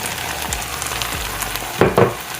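Pigtail and saltfish frying in a pot, a steady close sizzle with faint crackles and two brief louder bursts near the end as pieces hit the hot oil.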